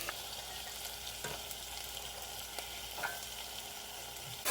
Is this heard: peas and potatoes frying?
yes